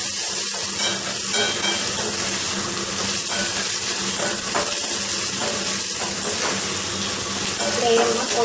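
Chopped onions sauté with salt in a pan, giving a continuous bright sizzle with some stirring scrapes. A voice speaks briefly under the sizzle.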